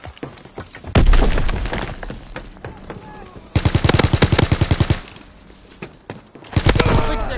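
Gunfire in the WW2 shooter Call of Duty WW2: loud bursts of rapid automatic fire, several separate volleys with sharp cracks and booms, heavy and close with brief quieter gaps between bursts.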